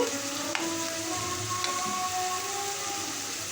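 Onions and green chillies sizzle in hot oil for a bitter gourd fry, with a steady crackling hiss and a couple of sharp clicks from a utensil touching the pan.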